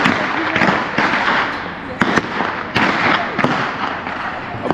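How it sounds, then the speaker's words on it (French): Long whip-like lashes are swung and cracked against the ground at a night event in Guadeloupe, giving sharp, loud, irregular snaps over a busy crowd murmur. "ce sont des grandes lanières, style de fouet, qui font tourner et qui s'éclatent par terre"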